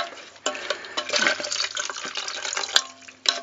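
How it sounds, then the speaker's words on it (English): Water pours into a cooking pot for ramen and curry, a steady splashing fill with a few clinks of the pot, close and alone with no talk. "So just adding a little water"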